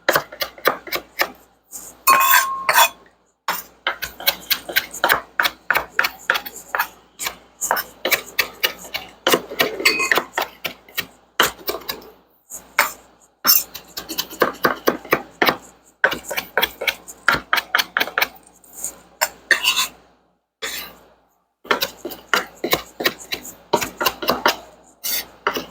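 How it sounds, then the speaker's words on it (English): A knife chops fresh herbs for Argentinian chimichurri on a cutting board, with rapid, crisp taps coming in rhythmic bursts separated by brief pauses, close and clear, with no talking. "So as I'm cutting through, I do kind of scoop from the bottom, go on the top"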